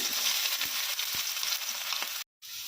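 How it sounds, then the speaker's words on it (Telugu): Onions and green chillies crackle and sizzle steadily in hot oil in a close, dense frying hiss with faint stir taps, briefly cut to silence just before the end. "వేడైన తర్వాత ఇందులో ఆనియన్స్ని, పచ్చిమిర్చి వేసుకొని వేయించుకోవాలి"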